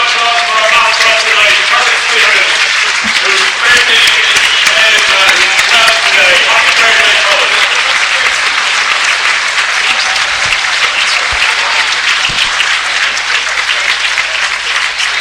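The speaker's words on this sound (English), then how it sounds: "we are going to now have a minute of applause" A football stadium crowd at an Airtricity League match keeps up a long, sustained round of applause, a thick, even roar of clapping that fills the space. Faint voices and tonal sounds drift through early on.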